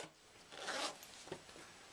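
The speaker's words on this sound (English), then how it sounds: "I've got to find that slider and move it out of my way." A zipper slider slides along a zipper tape being sewn in for a pocket, giving a short, close rasping pull and a second, briefer scrape, fairly quiet against a faint room hiss.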